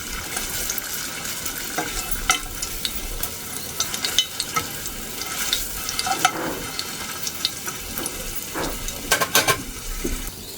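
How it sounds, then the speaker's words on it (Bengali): Food sizzles and spits in a hot frying pan as it is stir-fried in a home kitchen, a steady crackle broken by scraping stirs and short sharp pops, close by with no talk. "এইটা আমি একটু ভাজা করে নেব"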